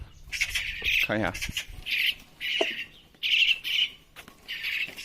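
Three young mynas kept as pets in a yard, letting out repeated harsh squawks and chirps in bursts, close and loud, with a brief voice speaking between the calls.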